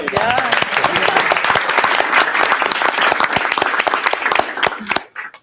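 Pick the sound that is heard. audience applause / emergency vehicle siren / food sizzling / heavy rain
audience applause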